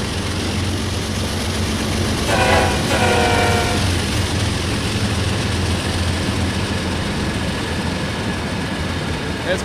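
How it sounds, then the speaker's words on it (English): A simulated train in Train Sim World on the Horseshoe Curve route rumbles steadily, with a sustained horn blast sounding for a couple of seconds near the start over continuous rail noise. "And I'm catching up to this train in front."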